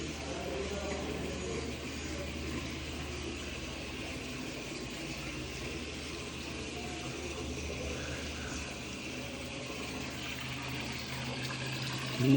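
Drinking water runs steadily from a tap at the old Koteshwar Mahadev temple near Wardha, a soft, even rushing that barely changes from start to finish, fairly faint and with no voices.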